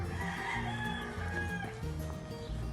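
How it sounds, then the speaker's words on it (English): Chickens in a backyard garden, with a rooster crowing over steady clucking; the crow rises clear and fairly near above a busy, continuous farmyard background. "We got chickens back here."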